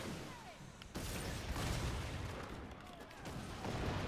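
Ship long guns firing during a naval battle in Skull and Bones, heavy booming volleys that thicken into a sustained roar of cannon fire and splashes, loud and close with steady low rumble.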